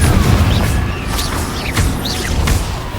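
Explosive Confringo spell blasts in the Hogwarts Legacy video game, a dense low rumble with several sharp bursts and whooshing magical sweeps, loud and continuous across the moment.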